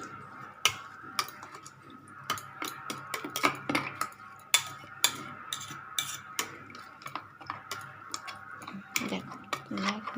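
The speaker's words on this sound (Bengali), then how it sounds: "এবার আমি চামচ দিয়ে একটুখানি মিক্স করে নিই" A spoon stirs sugar into aam panna, a raw mango drink, in a cup or glass, giving sharp irregular clinks and taps over about ten seconds against a quiet background.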